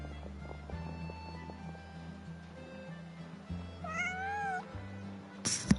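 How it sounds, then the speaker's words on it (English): A cat meows once in the video game Genshin Impact, a clear rising-and-falling cry that stands out over soft, layered game music and ambient tones, with no talking. "Oh, even that cat!"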